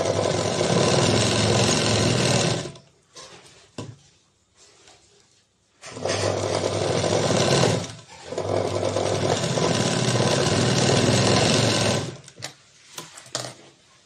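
A sewing machine stitching an aari-work blouse runs in long steady bursts of rapid, loud mechanical whirring, with short pauses in between.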